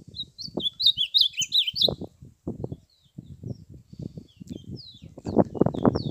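Songbirds sing high, quick chirping phrases, fairly faint and a little distant, over low muffled bumping and handling noise.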